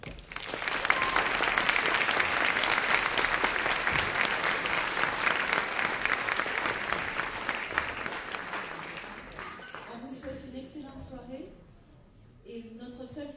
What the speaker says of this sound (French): j'aimerais qu'on les applaudisse déjà pour les encourager